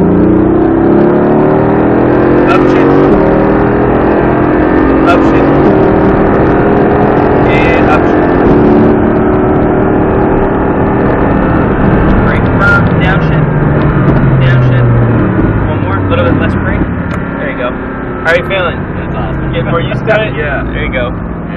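Race car engine at full throttle on the SpeedVegas track, a loud continuous roar with rising and falling pitch sweeps as it accelerates, while an instructor talks over it throughout.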